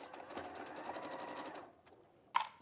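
A sewing machine runs fast and close, rattling out a regular stitching rhythm along a cotton seam, then stops; a sharp click follows shortly after.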